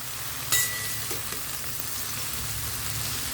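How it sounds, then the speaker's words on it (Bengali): Chopped bitter gourd leaves fry steadily in a pan, a continuous even sizzle with a brief sharper scrape or clink near the start as they are stirred. "এবার নেড়ে চেড়ে এটাকে মিশিয়ে দেব।"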